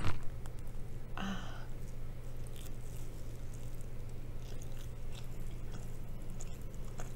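A single crisp bite into a spicy-sauced cheese ball, part of a Korean rabokki and black bean noodle meal in NYC, lands close and brief at the start, then only a low steady room hum.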